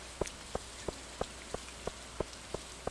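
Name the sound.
rain falling in the video game Stardew Valley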